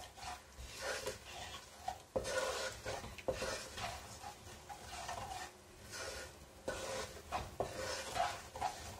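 Powdered spices and asafoetida being stirred into raw mango pickle in hot oil with the flame off, soft repeated scraping and stirring strokes with a faint sizzle, close but quiet, no talking.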